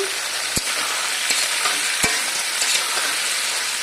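Potatoes and jackfruit seeds frying in a pan with ginger and garlic, a continuous sizzle broken by a few sharp scrapes and clinks of a stirring spoon, close up with no talk.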